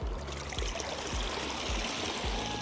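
Water streams and trickles steadily off a pool cleaning robot as it is lifted out of a swimming pool, a continuous splashing pour with soft low thumps, close by and with no talk.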